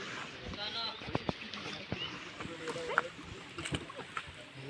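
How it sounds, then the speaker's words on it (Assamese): A speed boat approaches on the river at Laokhowa Wildlife Sanctuary. Its motor and water wash come across fairly faintly, with scattered knocks and splashes and voices murmuring nearby. "স্পীড বোট আহি গৈছে"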